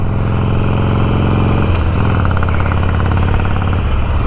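A motorcycle being ridden along a waterfront street in Brazil, its engine droning loud and close with a steady low rumble that shifts pitch as it changes speed, plus road and wind noise.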